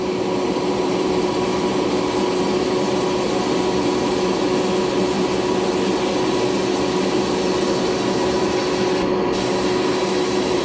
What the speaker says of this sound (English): I'm going to start bead blasting all the bolts.